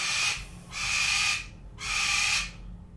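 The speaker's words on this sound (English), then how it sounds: "And that would be my bird." A pet bird gives three drawn-out, breathy hissing calls in a steady rhythm, each about half a second to a second long, close and fairly loud over a low background hum.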